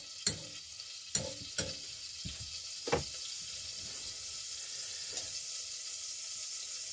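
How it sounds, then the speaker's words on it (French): Onions sauté in a pan with a steady soft sizzle, broken early by a few sharp utensil knocks and scrapes, then settling into a constant hiss. "on va faire revenir les oignons"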